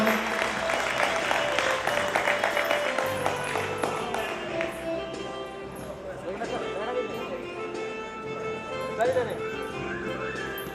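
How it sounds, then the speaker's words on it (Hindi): Applause at a cultural function as medal winners and parents join the stage, clapping mixed with crowd chatter and a public-address voice, rising and falling over music-like tones in a busy hall. "जोरदार तालियां"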